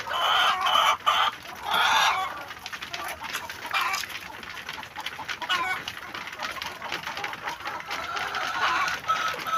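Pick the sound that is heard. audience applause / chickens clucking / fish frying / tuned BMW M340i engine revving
chickens clucking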